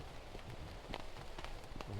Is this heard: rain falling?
yes